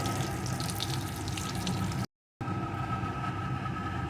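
Pabda fish frying in hot oil in a home kitchen, a steady dense sizzle and crackle that runs continuously, broken by one brief silent gap before resuming just as loud.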